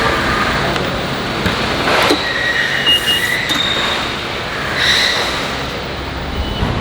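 A small five-car Malaysian commuter train on the way from Kuala Lumpur toward Penang, heard from inside as a loud steady rumble of wheels on track with faint squeals and rattles throughout, and no one talking.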